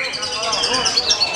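A white-rumped shama (murai batu) sings at a songbird contest, giving a busy run of high, rapid warbling phrases at steady volume with crowd noise behind.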